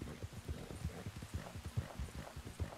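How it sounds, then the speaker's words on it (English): Horse hooves gallop in a steady rhythmic clip-clop in the video game Red Dead Online, close and continuous throughout, with faint talk mixed underneath. "Another good reason why I never get off my horse."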